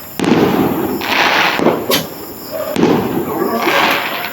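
Fireworks crackle and pop in a dense, continuous burst, with a few sharper bangs standing out from the noisy background.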